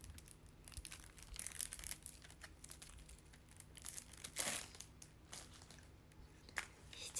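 A wrapper is crinkled and torn open on a pack of photo cards, with soft rustles and crackles close by and a louder crunchy tear midway, quiet overall.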